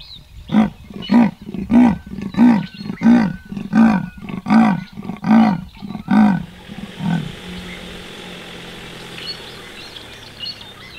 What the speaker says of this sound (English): That vocalization she was giving off, that's just a kind of a territorial rasp.